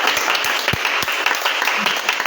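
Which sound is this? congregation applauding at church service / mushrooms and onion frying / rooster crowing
congregation applauding at church service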